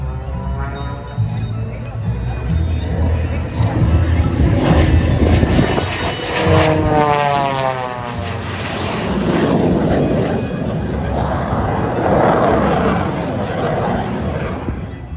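An aerobatic propeller aircraft with over 3,000 pounds of thrust roars past at a Blue Angels air show, a loud engine drone that rises and sweeps by overhead while a voice talks over it.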